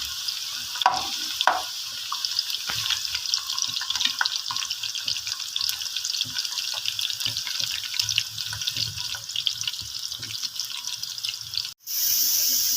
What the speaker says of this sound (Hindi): दाल के लिए मैंने फ्राई पैन में तेल ले लिया है, तो इसमें अब मैं प्याज ऐड कर रही हूँ।